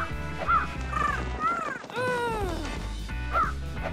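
A small dog barks and yips in a playful Halloween scene, several short high-pitched barks spaced out over a few seconds alongside crowing caws and light music.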